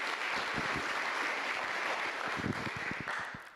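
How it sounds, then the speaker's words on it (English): An audience applauding at an all-employee company meeting, a dense burst of steady clapping that holds, then thins and tails off toward the end, fairly close and loud with no talk. "let's give them a round of applause for doing that"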